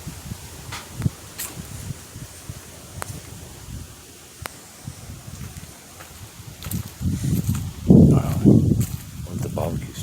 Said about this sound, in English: This is that wind.